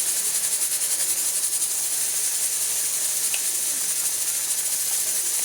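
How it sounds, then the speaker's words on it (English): Lamb brain masala fries in a pan with a steady, bright sizzling hiss, continuous and close, with no talk over it. "And let it fry."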